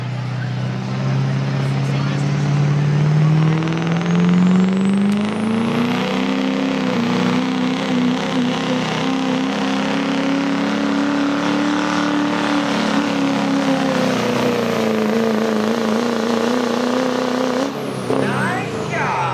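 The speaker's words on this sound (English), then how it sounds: "2007 Chevy Duramax." A 2007 Chevy Duramax diesel truck in a Hot Street Diesel drag race at Millers Tavern roars loud and close, its engine pitch climbing steadily through a long run before cutting off near the end, with an announcer talking over it.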